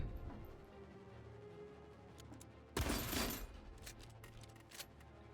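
Gatling gun firing in a video game, a short burst of rapid gunfire near the middle, faint overall, with scattered smaller game effects and a low background hum.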